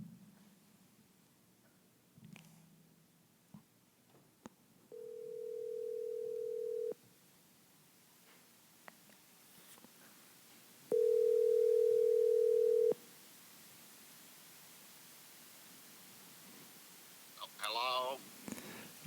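An outgoing telephone call rings back with two long, steady electronic ring tones separated by a pause, close and clear, with faint handling noise and rustle around them before the line is answered.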